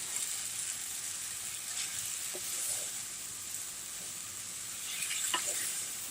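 Food frying in oil, a constant bright sizzle close by with occasional soft scrapes and clicks from stirring, and no voices.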